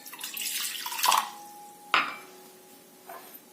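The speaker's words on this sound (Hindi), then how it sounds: "पानी डालूंगी मैं" Water poured into a kitchen pot to make kadha, a short splashing pour followed by two sharp metallic clinks of the pot, close and fairly quiet, with no talking.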